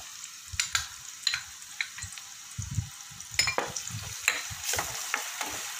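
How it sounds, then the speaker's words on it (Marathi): Chopped onion sautéing in a pan, a soft sizzle broken by frequent rhythmic scraping and knocking strokes of a stirring spoon, close, with no voices. "कांदा छान असा परतायचा आहे"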